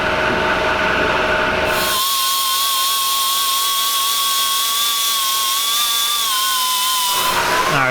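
A power tool drills holes in a car body panel during rust repair: a loud, steady high-pitched whine lasting about five seconds, close up, between bursts of broadband noise.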